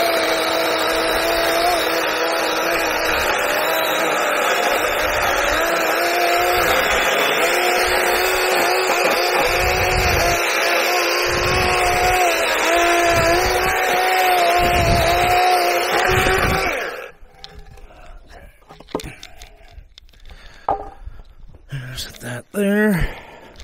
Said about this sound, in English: I got to trim this board down some.